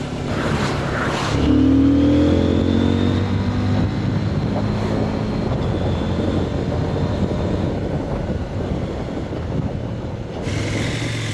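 A 2024 CFMOTO 800MT Explore adventure motorcycle on a rainy test ride, its engine droning steadily and loudly up close with a shift in pitch early on and wind and road noise throughout.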